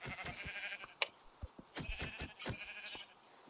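Sheep in the video game Minecraft bleat several times in quick succession, close and clear, with wavering repeated calls overlapping over a few seconds.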